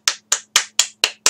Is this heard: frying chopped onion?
no